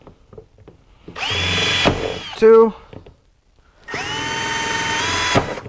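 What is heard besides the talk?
drilling holes with a drill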